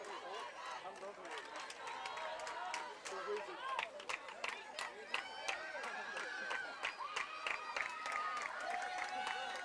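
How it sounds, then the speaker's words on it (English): Harris County fans at a high school softball game cheer and chant loudly, with rhythmic claps and shouts rising from the stands while a commentator talks over the crowd. "the Harris County crowd takes their turn to get loud"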